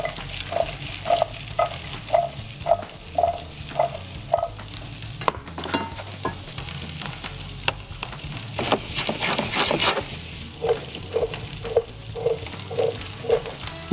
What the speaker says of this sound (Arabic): الخضره عم بلش نقليها شوي شوي